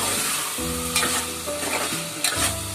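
Paneer matar pulav stirred in a pan, a spoon scraping and shifting rice over a steady sizzle, with a few sharper clatters standing out near the start and end.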